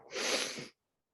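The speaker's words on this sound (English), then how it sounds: "I am sneezing" A single loud sneeze bursts out and fades, followed by silence and a faint brief sound at the end.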